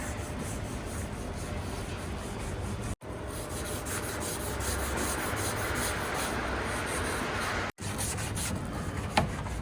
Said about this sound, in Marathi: सर्वात पहिला ह्याच्यावरती ब्रश मारणार आहे